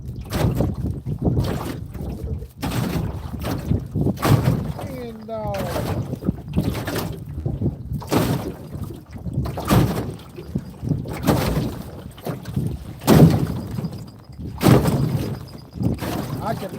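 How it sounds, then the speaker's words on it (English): Strong gusty wind buffets the microphone outdoors on a fishing outing, coming in repeated loud bursts of rumbling noise, with someone talking intermittently between gusts. "I kind of wasn't expecting for it to get this windy"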